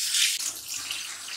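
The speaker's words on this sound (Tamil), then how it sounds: "ஸோ சால்ட் வாட்டரில் நல்லா வாஷ் பண்ணதுக்கப்புறமா நார்மல் வாட்டரில் வாஷ் பண்ணிக்கலாம்." Vegetables are washed in salt water and then in plain water under a running tap, giving a steady, close, splashing rush of flowing water with no speech.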